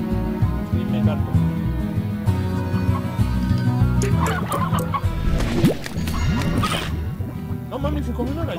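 Chickens clucking in the video game Slime Rancher, repeated clucks and squawks alongside game music and rustling, with a person talking over much of it.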